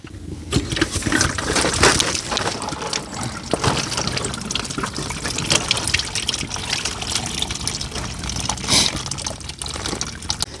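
Green coolant pours steadily out of a 1982 BMW 528e radiator, a constant, near, unbroken liquid rush that gushes and trickles for about ten seconds with no talk over it.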